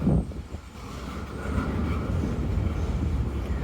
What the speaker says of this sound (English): How often do you get dead center of the train and get to look right down on it going by?